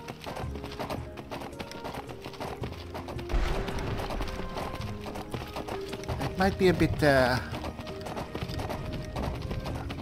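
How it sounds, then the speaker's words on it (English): Hooves of Arvak, the skeletal horse in the Skyrim video game, clip-clop steadily in a quick gait with a brief whinny midway, heard under a man's continuous speech. "unseemly for me to be riding around on a horse while the lady runs"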